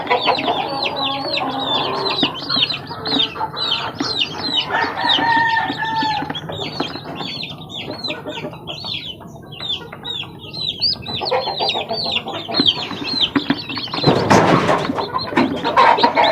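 Chicks hatched a day earlier in an incubator peep in rapid, high, overlapping chirps that continue throughout at close range, with a brief burst of rustling noise near the end.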